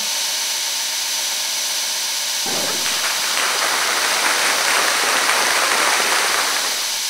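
Belt grinder taking the sharp edges off a knife blade in a knifemaker's workshop: a steady hiss of motor and belt, then a louder, rougher grinding rasp as the steel meets the belt, continuing close and unbroken.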